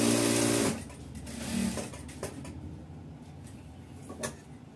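A sewing machine stitches a katori blouse in a loud opening burst that cuts off, followed by quieter clicks and short mechanical handling sounds.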